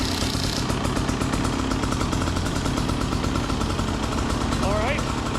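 A TBI motorcycle engine with a crankcase pressure sensor fix starts and settles into a rapid, even idle, loud and close, with a brief voice near the end.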